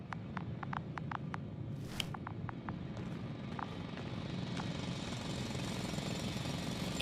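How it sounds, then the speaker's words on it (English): A loud drill grinds on without pause under a run of sharp, repeated metallic clicks and taps early on, then settles into a continuous heavy rumble. "It's a drill!"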